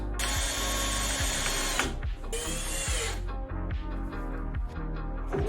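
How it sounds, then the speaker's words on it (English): A power drill whirs in long steady runs, then drives wood-to-metal self-drilling screws with ratcheting, clattering bursts as they bite and seat in a school bus interior; loud and close, with no talk. "Wood to metal self-drilling screws."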